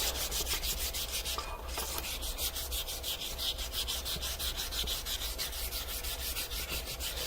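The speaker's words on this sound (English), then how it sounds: "Now you can see the sanding process." Steady, continuous scratchy rubbing of sandpaper on wood, close and even, with a rapid repeating stroke rhythm and no voices.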